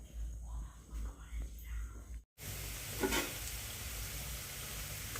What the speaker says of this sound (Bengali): তো দেখো এখানে লুচিটা হচ্ছে আর এখানে যে আলু ভাজা